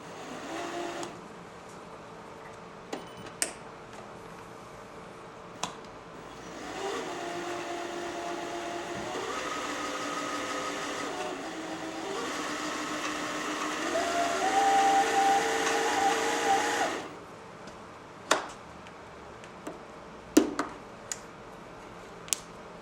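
A Janome 760 sewing machine winds its bobbin with a steady mechanical whir lasting about twelve seconds that rises slightly before stopping, bracketed by a few sharp clicks from handling the machine.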